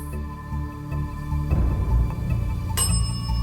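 A small bell rings aboard an abandoned ghost ship in Cebu, bright metallic strikes ringing out over a low, rumbling background.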